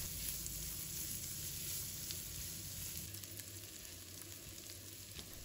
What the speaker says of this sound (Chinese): 锅里留底油，把姜蒜放入锅中，